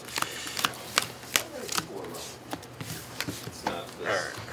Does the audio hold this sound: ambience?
no